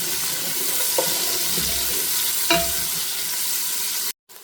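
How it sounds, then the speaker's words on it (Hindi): Onions fry with salt in a pan for a mutton and peas curry, giving a loud, steady close sizzle with a couple of soft stirring scrapes before cutting off abruptly near the end. "इससे ये है कि प्याज का पानी जल्दी से खुश्क हो जाता है और प्याज जल्दी फ्राई हो जाता है"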